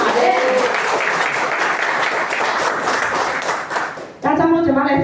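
An audience at a business motivational talk breaks into dense, sustained applause, which cuts off as a voice resumes speaking near the end.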